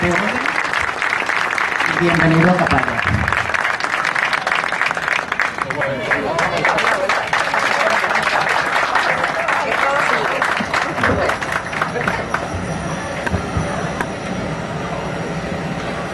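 Audience applause for a speaker at a civic anniversary ceremony in Capaya honoring Bolívar, a steady wash of clapping that runs throughout, with a voice speaking over it.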